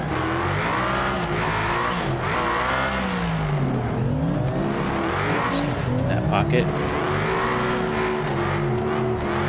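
A drifting car in BeamNG racing game with a loud engine revving and sliding, long tire squeals sweeping up and down continuously, close and dominant, while people talk over it.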